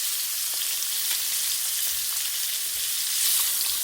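Salmon sears in a hot cast iron pan with a steady, loud, close sizzle that holds constant for several seconds, a dense frying hiss with no talking.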